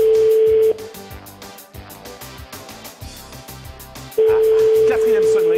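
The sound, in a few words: telephone ringing tone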